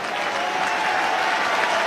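Stadium crowd at an AFL football match, Melbourne versus Brisbane, breaking into continuous applause, a broad distant roar of clapping without pauses.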